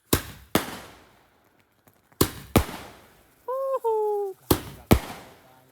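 Firecrackers burst at a New Year celebration in sharp, loud bangs, mostly in quick pairs spaced a couple of seconds apart, with a short whistling tone between them.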